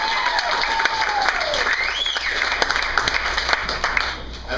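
An audience applauds a speaker in a hall, a steady wash of clapping that carries on under a faint tone and tapers off near the end.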